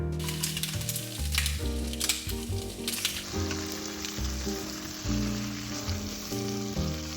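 Bacon crisping in an air fryer at 350 degrees, its sizzle and crackle running steadily under music with a prominent melodic line, with no voices.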